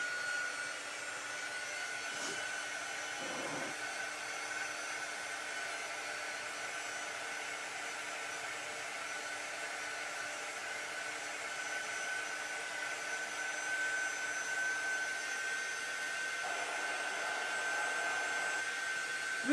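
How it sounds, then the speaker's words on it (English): A handheld hair dryer blows steadily over freshly painted pieces of a Heart & Home craft kit, a constant close whooshing roar that runs unbroken for the whole stretch with no talking. "I'm going to go ahead and blow dry these so I don't mess them up"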